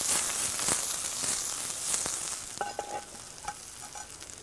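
Young artichokes sizzling in a pan with onion and garlic over an open fire outdoors, a loud continuous hiss with occasional stirring clatter and a few faint clinks, no voices.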